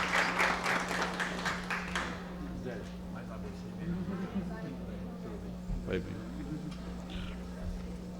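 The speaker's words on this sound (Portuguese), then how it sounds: "Doutor Gisele, receberá os aplausos da plateia." An audience claps loudly at a legislative session for about two seconds, then the applause fades into scattered claps under a steady hum while a voice speaks.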